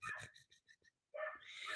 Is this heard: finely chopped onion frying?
no